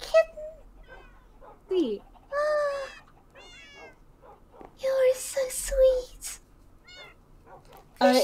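A kitten in Haven SMP, a Minecraft game world, meows in several short high calls, including a longer wavering mew near the start, mixed in with excited talking.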